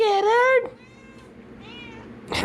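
A cat gives a loud, drawn-out meow close by, followed by a fainter, softer meow and then a brief rustling noise.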